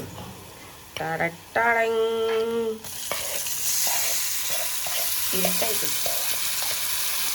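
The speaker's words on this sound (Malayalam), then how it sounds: "ഇനി നമ്മൾ നല്ലോണം മിക്സ് ചെയ്ത് കൊടുക്കണം." Lime pickle is stirred in a frying pan with a continuous close sizzle and rhythmic scraping strokes, while a person talks briefly near the start.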